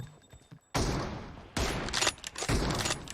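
Gunfire in the mobile battle royale game PUBG Mobile comes as two or three loud, abrupt bursts of shots separated by short gaps, close and sharp against quieter game background.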